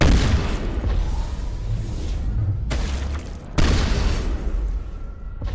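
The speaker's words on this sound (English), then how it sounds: "That explosion did less damage than my gun." A loud booming explosion in the video game Mass Effect: a sustained roaring rumble that cuts off sharply, then a second heavy blast that continues as a dense, rumbling roar.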